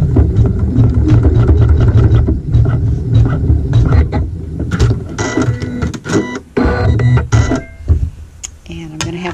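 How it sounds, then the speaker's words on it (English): A sewing machine runs in quick mechanical bursts, stitching a tack-down seam on quilting fabric for a strip triangle block, loud and close with brief pauses between runs. "it'll sew a tack down stitch"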